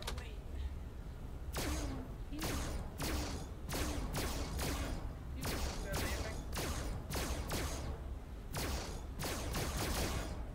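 Rapid laser gun shots in the video game FNAF Help Wanted 2, a dozen or more sharp bursts fired in an irregular rhythm over a steady game background hum.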